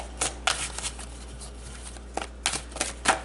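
Tarot cards being shuffled in quick, crisp riffles and flicks, close up, with irregular bursts and short pauses over a faint steady hum.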